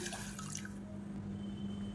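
Water poured from a cup into a pressure cooker holding washed split moong dal, a steady splashing pour near and clear for about two seconds with no talk.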